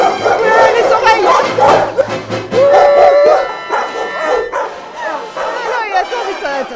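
Many dogs bark, yelp and howl at once inside enclosed kennels at an animal shelter, a loud, continuous chorus of overlapping calls with a voice speaking over it.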